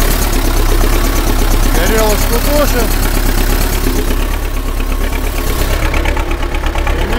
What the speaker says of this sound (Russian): Воспламенился мотор,